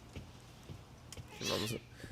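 A cat meowing in the horror game The Medium, one short faint cry in a dark, quiet space among small scattered noises.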